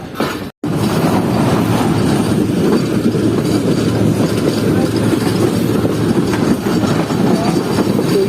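A passenger train pulls slowly away from a station platform near Karachi in extreme heat, with a continuous close rumble of wagons and faint rhythmic wheel clatter after a brief cut at the start.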